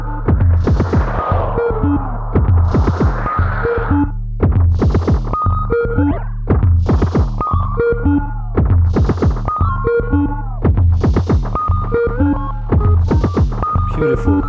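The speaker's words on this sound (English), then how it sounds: "now we have a very, very long delay, and of course, being a bucket brigade, it introduces a lot of artifacts and weird sound." A spring reverb unit driven into a very long bucket-brigade delay with clipping distortion: a throbbing low hum beneath repeating, smeared echoing tones and warbling artifacts that keep cycling loudly throughout.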